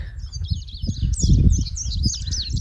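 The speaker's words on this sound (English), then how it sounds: "And the birds are just singing." Birds sing continuously in bright, warbling phrases, close and clear, over a low rumbling background.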